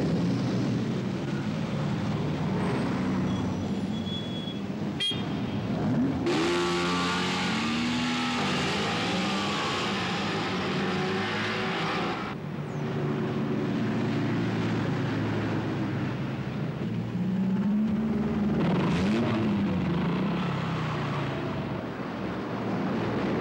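Town traffic noise, with vehicle engines droning and passing, a loud continuous roar that swells as individual cars and heavier vehicles go by close at hand.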